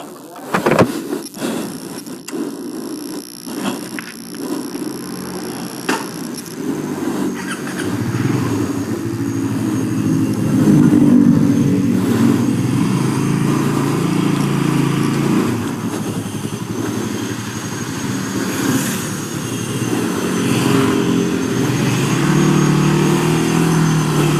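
A Suzuki GSX-S 150 motorcycle engine runs steadily while riding, a low rumbling drone with wind noise, loud and continuous throughout.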